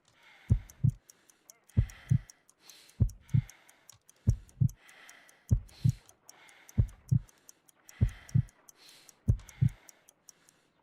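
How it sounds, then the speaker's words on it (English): A slow heartbeat from the Sherlock Holmes Crimes & Punishments video game thuds in evenly spaced double beats, about eight pairs, with faint ticking clicks over a quiet background. "I need to concentrate and count the heartbeats."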